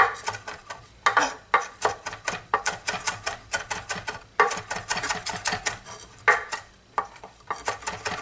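A knife mincing scallions very small on a cutting board for cheese pies, fast close-up rhythmic chopping taps in quick runs with brief pauses, continuing steadily throughout.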